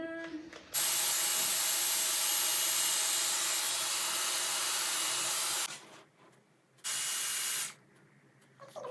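A Dyson hair styler blows air in a loud, steady hiss for several seconds, stops, then gives a second short burst before going quiet again.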